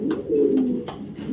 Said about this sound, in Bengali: লাইট কালারের ভিতরে সুন্দর একটা নর কবুতর